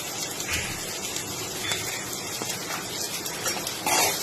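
Water pours into a pan of Bihari chicken masala being cooked down, a soft continuous gushing splash, fairly faint and close, swelling slightly at the very end.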